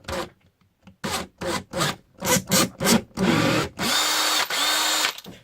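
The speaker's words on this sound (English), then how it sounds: "So you can just put that in your drill." A drill spins a spherical leather burnishing tool in short bursts, first choppy stop-start pulses, then longer sustained rubbing whirs with a low motor hum, close and fairly loud.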